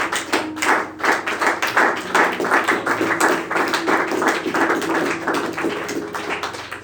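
A church congregation at a Sunday service applauds to acclaim the Lord, with loud, sustained clapping from many hands in a steady rhythm throughout.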